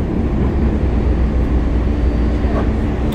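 A Boston MBTA Green Line subway train rides between Harvard Ave and Park Street, with a loud, steady rumble and roar filling the car throughout.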